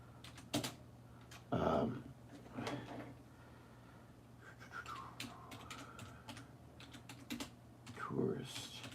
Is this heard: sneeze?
no